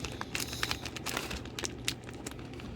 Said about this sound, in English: As I got scissors right here and I'm ripping it open